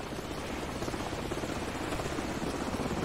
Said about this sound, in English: The helicopter's back.